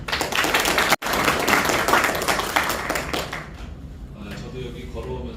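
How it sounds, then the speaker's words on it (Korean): Dense applause fills the room at the opening of a labor forum, steady for several seconds before thinning into sparser claps as it winds down. "여러분들의 박수와 함께 시작하도록 하겠습니다."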